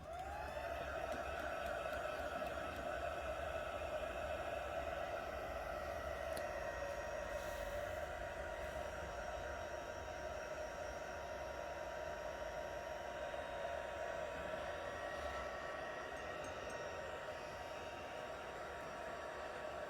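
A hair dryer blows steadily on gesso-painted fabric, a constant close whooshing roar with a faint motor whine that holds level throughout, alone without talk.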